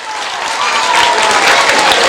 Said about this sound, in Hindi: तो जोरदार तालियां हो जाए अपने ग्रुप के लिए।